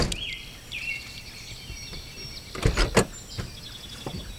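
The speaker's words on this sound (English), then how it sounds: "shut my door, and I'll be on my way." A driver with quadriplegia shuts the car door from the driver's seat: two fairly close thuds land in quick succession against a steady background hum, with birds chirping faintly outside.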